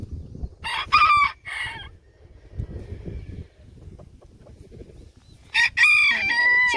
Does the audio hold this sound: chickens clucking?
yes